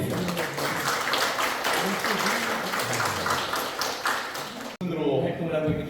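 A hall audience at a youth seminar in the National Assembly members' building claps to welcome a celebrity host, with dense applause under and alongside someone speaking over a microphone, then a sudden cut to quieter room sound.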